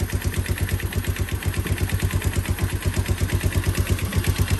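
A small engine idles steadily with a newly fitted Chinese carburetor, a loud, close, fast regular putter with even pulses and a slightly low idle speed, running alone without talk.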